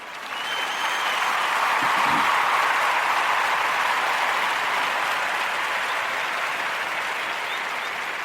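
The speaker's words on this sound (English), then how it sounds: "let's give them a round of applause." Audience applause at a community gathering, steady clapping that swells in quickly, holds at an even level for several seconds and begins to taper toward the end.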